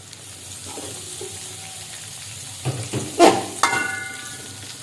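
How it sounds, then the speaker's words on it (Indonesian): Chilies sautéing in a pan with garlic for a chicken soup, a low background sizzle joined by several loud scraping stirs and clatters of the spatula toward the end. "Kemudian kita tumis selanjutnya cabainya"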